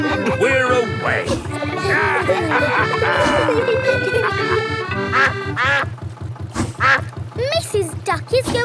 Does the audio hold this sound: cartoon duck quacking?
yes